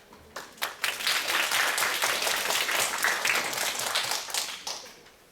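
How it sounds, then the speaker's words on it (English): An audience at a school presentation event applauds with a dense burst of clapping. It swells quickly, holds steady for several seconds, then tapers off, with no talking. "Let's give her a round of applause."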